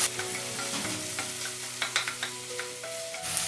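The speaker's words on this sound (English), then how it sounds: "Give it a good mix and add potatoes." Tomato mixture stirred and frying in a pan, a steady sizzle with repeated soft scrapes and clinks of the spoon, close and fairly quiet, no voices.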